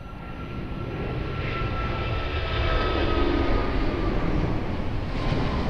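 A jet airliner takes off at Lisbon Airport, producing a steady, broad engine roar heard from a distance that swells slightly midway and holds throughout, with no talking.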